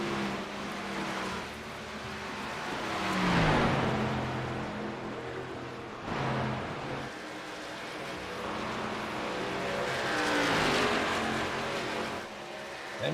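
Race cars circling a track at a championship event in Texas, engines droning continuously with two louder swells as cars pass, fairly distant and without talk.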